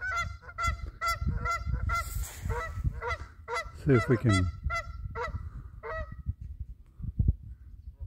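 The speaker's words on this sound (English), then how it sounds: "Oh, right there on the hill, some geese." Several geese honk repeatedly from a hill beside a lake, a loud, rhythmic series of nasal calls that swells into overlapping honking as they take off, with someone speaking briefly over them.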